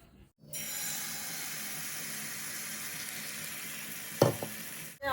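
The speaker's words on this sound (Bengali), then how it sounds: "আমার ভাজা হয়ে গেছে" Food fries in a small amount of oil with a steady, soft, even sizzle that holds for several seconds, broken by a brief clatter near the end.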